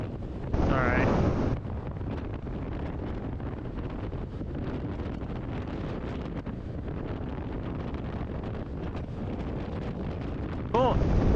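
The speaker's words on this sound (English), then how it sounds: "Oh my goodness. It is windy." Strong wind buffets the microphone with a constant roaring rush, and brief voices are heard at the start and end.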